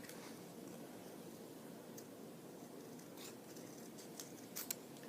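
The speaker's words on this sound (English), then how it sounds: "I'm going to cut it there, draw that there, and cut it out now." Scissors snip through red paper in a quiet room, a soft steady cutting rustle with a few faint crisp clicks near the end.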